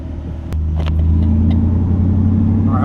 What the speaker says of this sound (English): let's go drive this around